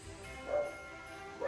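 A dog barks twice from some distance, brief yips over a steady background hum.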